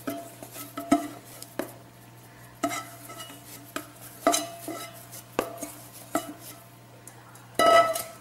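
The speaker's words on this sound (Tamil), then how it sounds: "அப்புறம் வெந்நீர் ஊற்றி நீங்கள் பிசையணும்" Rice flour dough for akki roti being stirred and mixed with hot water in a bowl: a steady run of close scraping and clinking strokes, roughly one every half second to second, over a faint constant hum, with no talking.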